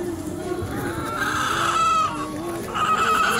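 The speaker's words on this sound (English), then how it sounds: "Look at the chicken." Chicken clucking in a petting-zoo animal pen, a few short calls rising over steady background noise of a busy enclosure, with people talking nearby.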